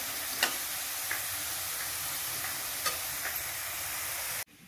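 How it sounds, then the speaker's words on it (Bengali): Potatoes fry in oil with a steady, even sizzle, close and moderately loud, broken by a few faint utensil clicks before cutting off abruptly near the end. "তার জন্য আলু ভাজা করছে।"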